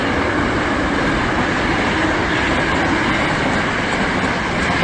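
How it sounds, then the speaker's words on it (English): A train on the Hankyu line rolls past right beside the tracks in Ashiya City, Hyogo, a loud and steady rumble with clattering wheels that fills the whole stretch, and no voices. "Apologies for the train noise."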